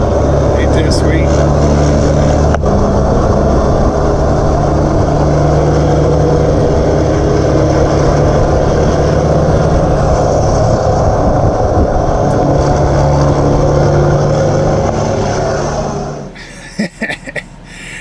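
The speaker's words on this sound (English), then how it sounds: "That's a sweet sounding truck there. Straight pipes and all." An old Peterbilt truck with straight pipes runs loud and near, a constant heavy engine roar lasting most of the clip before cutting off abruptly, followed by a few sharp clunks.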